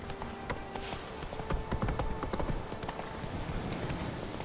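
Horse hooves clip-clopping at a steady trot in The Witcher 3 video game, with repeated close hoofbeats over a dense layer of game ambience and music, and a brief whinny-like tone.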